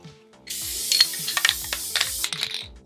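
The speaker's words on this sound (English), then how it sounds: "I've noticed a stark difference in using hairspray as opposed to using like a glue spray, like a literal glue spray" Gorilla Glue spray adhesive hissing out of an aerosol can onto a wig, a steady close spray with several short bursts and pulses over nearly three seconds, with no talking.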